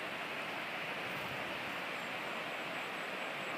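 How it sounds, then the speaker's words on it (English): Eagle Creek flows in an otherwise quiet park, a steady broadband rush of moving water, even and continuous throughout, with no voices over it. "I just love the sound of the water."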